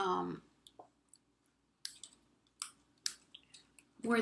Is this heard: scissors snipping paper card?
yes